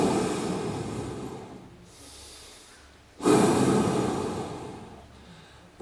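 Forceful deep breathing exercise done lying down: two long, loud, rough breaths close to the mic, each swelling then fading, separated by a quieter pause.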